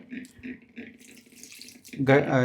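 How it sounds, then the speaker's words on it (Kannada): Water is poured a little at a time into wheat flour for dosa batter. Low clatter comes first, then a louder, fuller wet splash near the end. "ಸ್ವಲ್ಪ ಸ್ವಲ್ಪ ಹಾಕೊಂಡು ಕಲಿಸ್ಕೋಬೇಕು"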